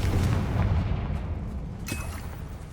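A Confringo fire spell explodes in Hogwarts Legacy, a loud booming blast at the start that rumbles and fades, followed by a fainter crackling burst.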